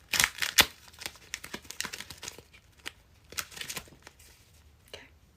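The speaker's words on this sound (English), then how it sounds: "I'm just shuffling these babies up." Uno playing cards being shuffled by hand: quiet crisp riffles and flicks in irregular bursts, close up, with a louder flurry at the start.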